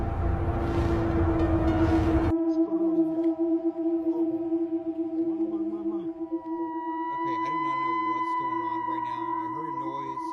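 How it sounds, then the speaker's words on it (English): Long steady siren wails over a downtown hold for several seconds, with a loud rush of wind noise at the start and faint voices underneath. "Sirens blaring"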